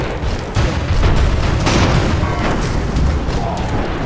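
Cannon shells from airships pound buildings in the video game Airships, a loud continuous rumble of booming impacts and blasts layered together with no clear gaps.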